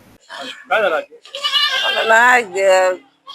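Goats bleat loudly and close by in several wavering cries, set in a rural livestock yard, with a person speaking between and around the calls.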